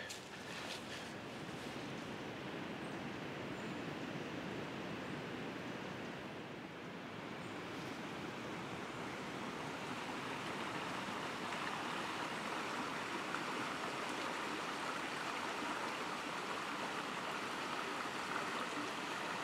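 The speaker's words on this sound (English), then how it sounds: "the little river, the brook." A small brook flows down a steep ravine in the Pembrokeshire countryside of West Wales, giving a steady, even rush of running water that continues unbroken for the whole stretch, with no voices over it.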